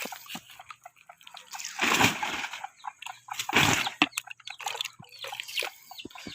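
Paddy straw mushroom beds are watered by hand in hot weather, with several bursts of splashing water between quieter dripping and sloshing. The sound is close and alone, without talk.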